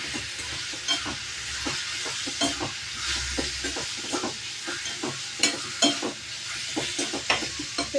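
Spices and turmeric sauté in a pan under a constant sizzle, with repeated spoon strokes tapping and scraping in an irregular rhythm, close and alone.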